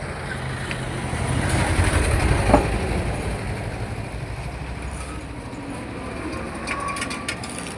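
A ratchet tightening something, giving a fast, steady run of close mechanical clicks over a loud, rumbling machine-like background.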